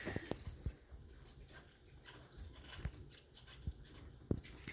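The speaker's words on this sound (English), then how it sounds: "they're enjoying chewing on the crate" Chihuahua puppies gnaw on a dog crate, giving faint, irregular clicks and taps scattered over a quiet background, with no talking.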